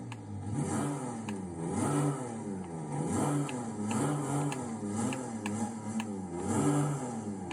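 A Mercedes X-Class 2-liter turbo diesel in Forza Horizon revs repeatedly, rising and falling in a series of pulses that climb and drop again, fairly quiet with no speech.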